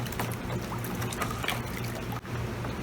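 OxyClean powder being stirred into water, giving a continuous, fairly steady swishing and sloshing with a low hum underneath and a brief dip near the end; no one speaks.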